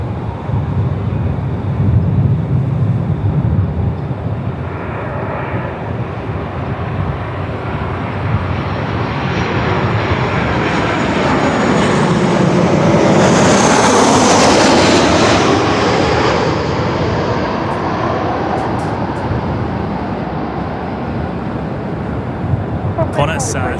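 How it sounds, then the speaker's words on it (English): Qantas 703, an airliner in from Cairns, comes in to land at Melbourne Airport, its engine roar swelling steadily from distance to a loud close pass before easing off, with light talk nearby. "Qantas 703 coming in from Cairns here."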